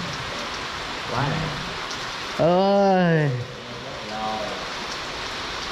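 Steady rain drums on a hut shelter during a slingshot hunting trip, a continuous wash of patter throughout, with a brief spoken exclamation and a bird-like call rising above it.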